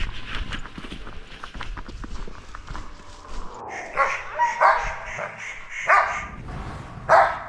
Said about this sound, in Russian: Ну вот лает, сейчас посмотрим.